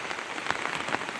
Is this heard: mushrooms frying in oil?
no